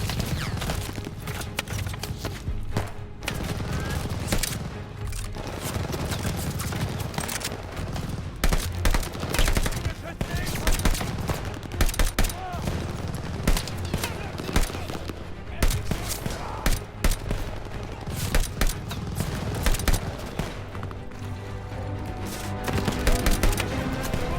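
Dense battlefield gunfire from Call of Duty: Vanguard, with sustained volleys and machine-gun bursts rolling continuously amid explosions and shouting soldiers, loud and close throughout.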